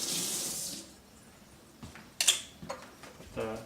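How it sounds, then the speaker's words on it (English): Kitchen sink tap running while an AeroPress coffee maker part is rinsed, a bright rush of water at the start that stops, followed by a few clicks and knocks of plastic handling. "Rinse this in the sink."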